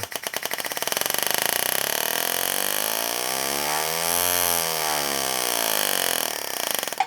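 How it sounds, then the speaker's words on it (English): A GRS GraverMach pneumatic engraving handpiece hammering with air on, a loud, steady buzzing rattle whose pitch sweeps down and back up as the speed is adjusted, alone without speech. "that allows for the speed in which the handpiece hammers"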